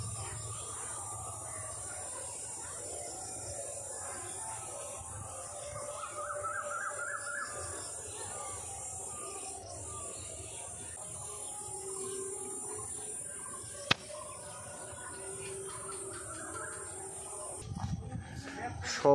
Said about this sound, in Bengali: পাখির কলরব, ঝিঝি পোকার ডাক।